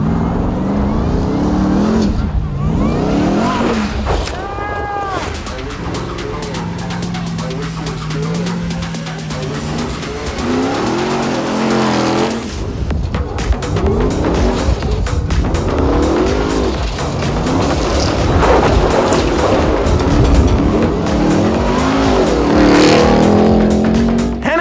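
Hennessy Mammoth 1000 pickup truck charging from a standstill up a hill, its engine roaring loud and close with rising revs through gear changes and a brief tire squeal.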